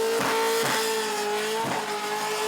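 A car engine revs hard and steadily at high pitch during a burnout competition at Summernats, with repeated pulsing surges over a constant loud drone, no voices.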